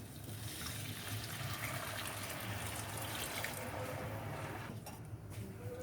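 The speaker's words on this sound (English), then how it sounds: "So now I am adding the water that we had boiled." Boiled water is poured into cooked rice in a pan for Bengali Basanti pulao, a soft continuous splashing and trickling that stays fairly quiet and ends with a couple of brief sputters.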